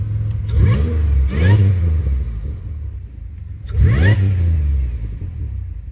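A 2007 Pontiac Grand Prix engine with Lucas 42.5 lb injectors idles steadily up close, rising in three short revs that swell and fall back to a smooth, even idle.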